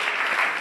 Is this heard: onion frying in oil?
no